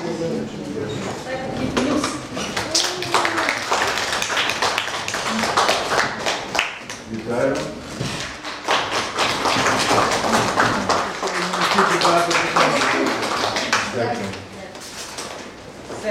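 Audience clapping in a room during a press conference with journalists, a steady sustained patter of many hands, with someone talking over it and speech continuing throughout.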